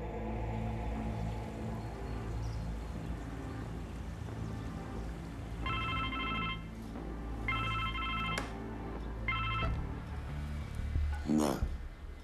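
A telephone ringing in a drama scene, three short electronic ring bursts with pauses between them over a low background score, with no voices during the rings.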